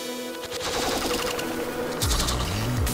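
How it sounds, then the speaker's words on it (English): Gunfire in the battle-royale shooter game Rules of Survival, loud bursts of rapid automatic shots crackling close by, with no talk over them. "the gunshots are coming from over there"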